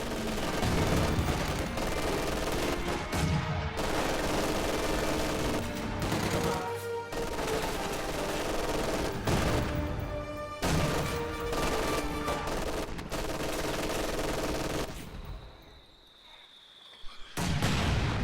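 A video game battle between American forces, grenadiers and machine guns, full of dense, continuous gunfire. Rapid bursts and explosions go on almost without a break and then thin out into a few scattered shots near the end.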